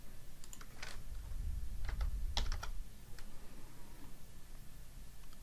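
Keys tapped on a computer keyboard in short, irregular bursts, entering a page number into a citation field in EndNote within Word; close, light clicks with no talking.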